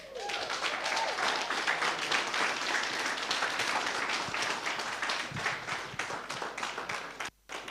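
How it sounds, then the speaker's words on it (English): Audience applause after a speech at a network launch event, many hands clapping steadily and fairly loud for several seconds, thinning briefly near the end. "Please, let's appreciate Ian one more time with a round of applause"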